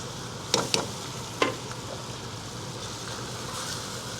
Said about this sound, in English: And we're gonna add that rice in.